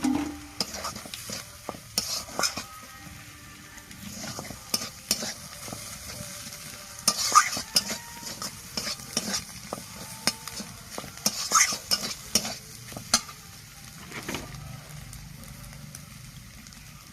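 Fried soybean chunks tossed back into a pan for a soybean bhujia, stirred with repeated scraping clicks over a low, steady sizzle, moderately close with no voices.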